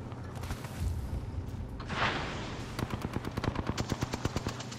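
Rapid automatic gunfire from a multiplayer shooter video game, a steady rattling burst of close, loud shots that follows earlier scattered firing and a rushing blast, with no talk over it.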